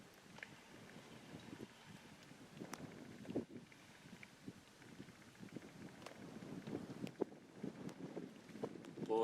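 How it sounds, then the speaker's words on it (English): Strong, blustery wind blowing across an open Alaskan hillside during a grizzly hunt, gusting and buffeting the microphone in uneven surges with faint knocks, steady throughout. "it's a blistering wind out there"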